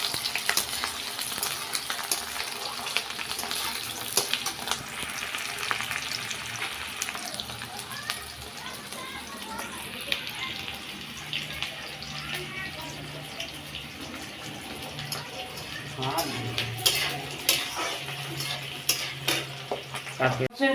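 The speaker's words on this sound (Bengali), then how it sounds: "পেঁয়াজটা এবার ফ্রাই হবে হালকা করে।" Sliced onion fries lightly in a pan for a chicken drumstick dish, giving a steady soft sizzle with occasional stirring scrapes, and a voice talking at times.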